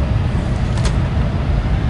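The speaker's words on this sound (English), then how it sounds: "now initiate the reverse thrusters" An airliner in the PMDG flight simulator runs reverse thrust after landing at Manchester Airport, producing a loud, steady, low engine roar with a brief hiss partway through.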